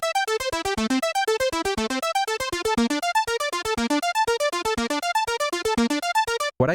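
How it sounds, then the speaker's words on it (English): Synthesizer arpeggio programmed in Ableton 12, fast, even plucked notes cycling up and down in a tight repeating pattern, bright and close with no voices. "This is the arp."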